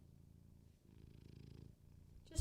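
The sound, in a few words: cat purring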